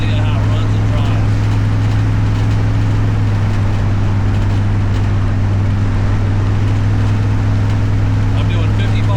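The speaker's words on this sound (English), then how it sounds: "we want to give you an idea how it runs and drives" A 1963 Ford Falcon driving at highway speed, with a steady low engine drone and road and wind rumble running continuously throughout.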